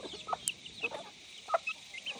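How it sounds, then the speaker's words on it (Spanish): Farm chickens clucking in short, scattered bursts over a quiet outdoor background, several separate calls from nearby hens feeding. "Y ahí están todas nuestras gallinas. ¿Ven? Están que comen y comen."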